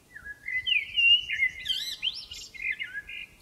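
A blackbird whistles and sings in a garden near cherry, gooseberry and plum trees, a close, loud run of fluting, sliding notes lasting several seconds over a soft low rumble.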